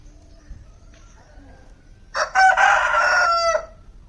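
A rooster lets out one loud, close cock-a-doodle-doo at midday, lasting over a second after a stretch of quiet background.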